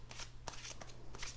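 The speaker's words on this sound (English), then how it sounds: "One little shuffle." Tarot cards being shuffled by hand: a quick, soft flurry of papery riffles and slaps over about a second, faint and close with low background hum.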